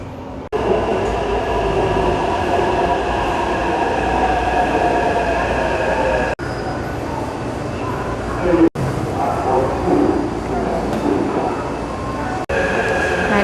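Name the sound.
train arriving at station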